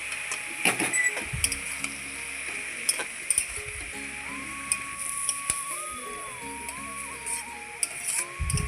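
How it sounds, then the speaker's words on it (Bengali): Spinach with turmeric and salt is stirred in a frying pan, producing soft sizzling with scattered scrapes and clicks of a spatula, plus a faint tonal whine in the background. "একটু হলুদের গুঁড়ো আবারও ভালোভাবে একটু নেড়ে চেড়ে নিচ্ছি"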